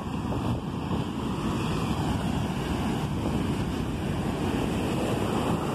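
Strong wind buffeting the microphone over breaking sea waves on the beach at Farol de São Tomé, a dense, continuous roar of surf and gusts with no talking.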